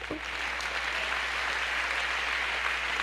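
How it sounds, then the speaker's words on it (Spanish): A church congregation applauds during a Christian teaching on prayer, a steady, full wash of clapping that holds evenly from start to finish at moderate distance, with no voices standing out. "Dale un aplauso al Señor."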